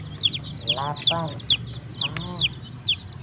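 Dyed, multicoloured chickens cluck close by at a market stall, with repeated high chirps and a few lower clucks, while people talk over them.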